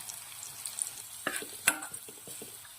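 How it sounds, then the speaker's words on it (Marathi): Drumsticks and potatoes tossed into hot oil with asafoetida, onion, turmeric and spice for a shevga-batata bhaji: a soft sizzle with a few clattering drops and stirring scrapes, close but fairly quiet, no talking. "यात आपण घालतोय शेंगा आणि बटाटे"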